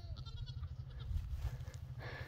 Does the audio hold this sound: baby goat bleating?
yes